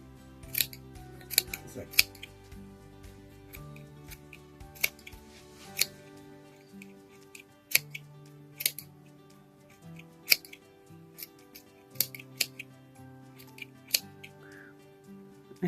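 Scissors snip yarn while a crochet pom pom for a newborn baby hat is trimmed, producing a run of sharp, irregular close cuts over faint background music.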